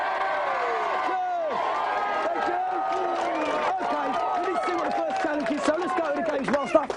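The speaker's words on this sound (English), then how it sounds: "let's have a big cheer for the Dick Whittington team first" Studio audience of a Gamesmaster television show cheering and shouting throughout, a dense continuous crowd roar with voices rising over it, growing louder toward the end.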